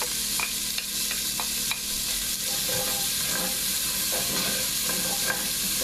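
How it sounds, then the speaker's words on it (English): Onions frying in olive oil in a pan still hot from cooked sausage, a constant close sizzle with occasional soft scrapes and clicks of a utensil, no voices. "I'm going to add my onions down in the bottom there"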